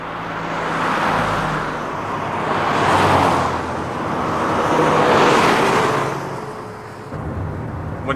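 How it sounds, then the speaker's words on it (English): A car cruising along a motorway, with a steady broad road and engine roar that swells and eases as traffic passes, continuous and fairly loud throughout. "Driving on the motorway,"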